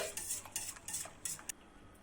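Chicken soup stirred in a pot with its heat off, a utensil scraping and clinking against the metal in a quick irregular series of sharp strokes, close and fairly faint, with no voices.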